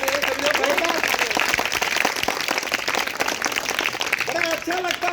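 Schoolchildren clap together at a school yoga awareness event, a dense, sustained burst of applause that runs the whole time, with children's voices and chatter mixed in.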